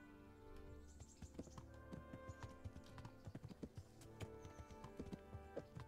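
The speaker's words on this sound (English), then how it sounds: "Look, I have a horse." Horse hooves in the medieval video game Kingdom Come Deliverance, a quick run of sharp, close clip-clop taps over a low steady background hum, faint overall.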